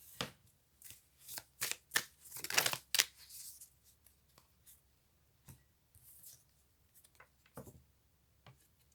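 Tarot cards are shuffled in a rapid run of crisp riffling flicks, then a few softer, sparse slides and taps follow as a card is drawn, close and quiet with no talking.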